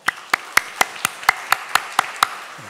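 Clapping rings out in a church, sharp, evenly spaced claps at a quick steady pace of about four per second, close and crisp against a quiet room.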